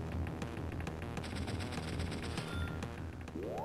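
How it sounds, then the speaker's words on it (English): A laser cannon fires in the strategy game Advance Wars 2, a loud, continuous burst of crackling, rapid-fire blasts lasting several seconds, ending in a rising sweep, with no talking. "the laser always fires first"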